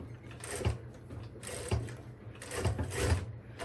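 A sewing machine with a spring-loaded presser foot stitches a fabric zipper bag, giving close, rhythmic mechanical chugging in short bursts with a steady low hum between them.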